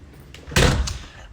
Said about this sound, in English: So I'm gonna close the door.